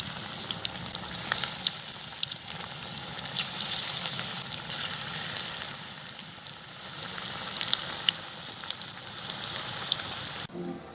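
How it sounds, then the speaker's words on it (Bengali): Mustard flower pakoras fry in hot mustard oil in a village kitchen, giving a steady, close, dense sizzle with crackling pops throughout and no talking. "তেলটা গরম হয়ে গেছে, পকোড়াগুলো ভেজে নেব।"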